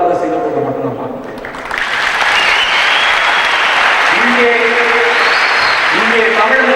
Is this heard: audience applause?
yes